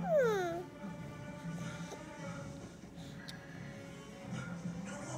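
A cat lets out one clear, falling meow right at the start, followed by quiet room ambience.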